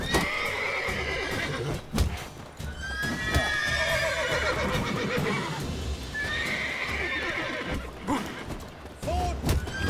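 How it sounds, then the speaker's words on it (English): Horses in The Witcher 3 neigh and whinny repeatedly, loud and close, with clip-clopping hooves and combat noise throughout. "I want to avoid those horses because I don't want to be kicked."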